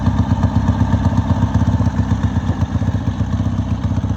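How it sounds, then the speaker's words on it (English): A Harley-Davidson Sportster Ironhead motorcycle engine runs steadily up close, a loud, continuous rumbling idle with an even, rapid pulsing thump throughout and no talk. "start the bike up, pull in your clutch, put it in first gear"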